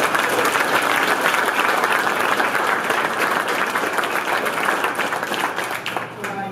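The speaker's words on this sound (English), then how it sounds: "Let's give him another round of applause." Sustained audience applause fills the room at a ceremony honoring a former New York State Assembly member, dense and steady throughout before thinning slightly near the end.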